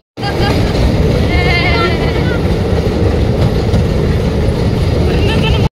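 A small park train at Savner Eco Park near Nagpur rumbles along steadily with rhythmic clacking and mechanical noise, close and loud, with faint voices in the background.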